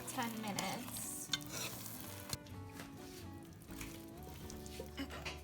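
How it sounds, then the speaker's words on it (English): A spoon works thick Trinidadian fungi, cornmeal cooked with okra, in a pot, giving close, quiet scraping and sticky squelching strokes in a steady rhythm, no talking. "We've been stirring it for like 10 minutes."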